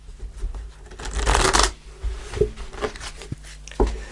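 A deck of tarot cards is shuffled up close, giving a loud riffling burst followed by several shorter snaps and taps of cards.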